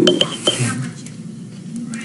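A spoon clinks against a dish in a few quick, sharp taps close by, followed by softer scraping and stirring, with faint voices in the background.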